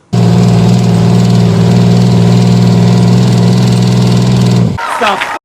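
A Detroit Diesel 6-71 engine idles loudly and steadily with a deep, throbbing rumble, then cuts off abruptly near the end, leaving brief rustling.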